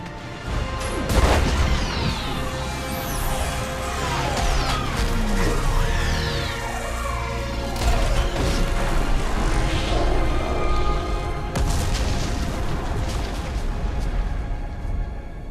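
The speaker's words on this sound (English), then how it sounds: "I need an orbital strike." Orbital strike explosions slam into a living Reaper during a Mass Effect 3 battle on Rannoch, a dense run of heavy booms and crashing impacts that rolls on loudly for the whole stretch without letup.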